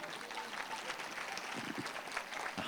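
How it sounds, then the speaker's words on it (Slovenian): Applause from an audience welcoming lawyer Maja Kristan to the stage at a talk, a faint, steady patter of many hands heard from a distance. "Aplavz za Majo."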